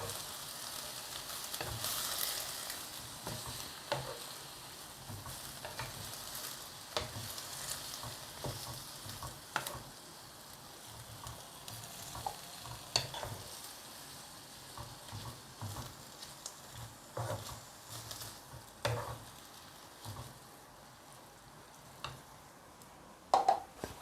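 A blood clam stir-fry with palm sugar and soy sauce being stirred in a wok, giving a faint, continuous sizzle broken by repeated scraping strokes and soft clatters.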